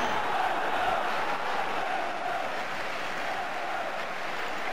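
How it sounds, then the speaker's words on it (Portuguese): In the Championship Manager football game, a stadium crowd of Liverpool supporters chants the team name, a steady, dense roar of voices that fills the scene without pause. "Torcida do Liverpool gritando aí o nome do time"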